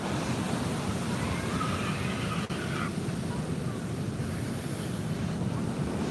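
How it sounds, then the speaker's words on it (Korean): Ocean waves roll in steadily at Junggwang beach, a broad continuous wash of surf with wind buffeting the microphone throughout. "그래 파도가 점점 강해지고 있어요."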